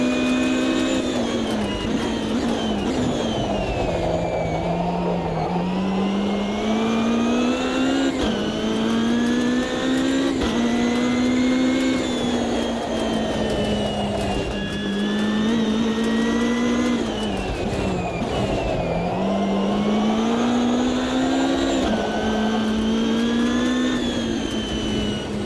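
Prototype-class race cars roaring in a racing video game, a loud continuous engine note rising and falling through repeated upshifts and revs, with no pause for the whole stretch.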